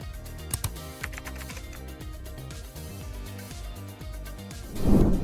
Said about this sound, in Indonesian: bisa mengetik langsung kata kuncinya